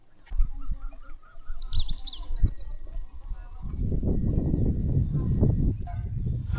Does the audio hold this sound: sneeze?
no